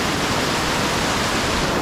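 A rushing mountain stream pours down along a lake loop trail, its dense roar of water loud, close and unbroken, with no voices over it.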